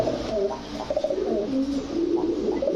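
Several pigeons coo continuously in low, warbling murmurs, close by and overlapping.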